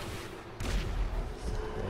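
A single loud, booming gunshot in Grand Theft Auto 5 bursts out after a short quiet stretch, followed by a rumbling echo that trails off.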